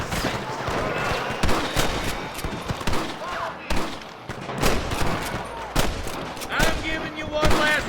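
Gunfire in the Western game Red Dead Redemption cracks out in a loud, ragged volley of rifle and pistol shots from several directions, some near and sharp, others more distant.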